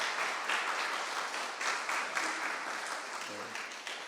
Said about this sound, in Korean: 환영의 박수 함께 하겠습니다.